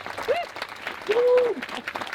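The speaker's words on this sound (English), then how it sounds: "Let's have a round of applause" Audience applause at a cancer association charity dinner, a thin, uneven patter of clapping in a room, with cheering or vocal whoops rising over it.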